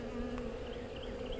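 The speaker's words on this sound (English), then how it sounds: "Bees are kind of coming out and checking things out." Honey bees from Georgia buzz steadily around a newly installed nuc hive, a close, continuous insect drone with no talking.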